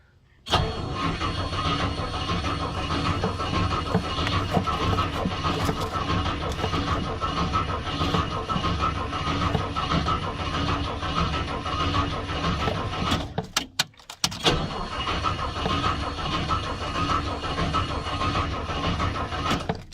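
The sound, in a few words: Rolls Royce engine cranking and trying to start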